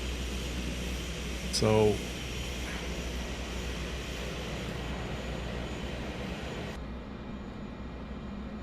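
A steady airliner engine drone in Microsoft Flight Simulator 2024, running continuously as the engine sounds as if in reverse, with a brief spoken word and a short tonal blip early on.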